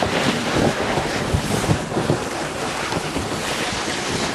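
Wind roaring hard past the camera during a fast snow-tube run down a hill, a loud, constant broadband rush that fills the whole stretch with no voices.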